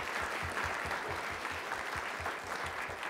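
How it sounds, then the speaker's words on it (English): Audience applause after a guest's talk at a museum: steady, dense clapping from a seated crowd, even and sustained throughout with no voices on top. "Round of applause for Christopher Lawrence."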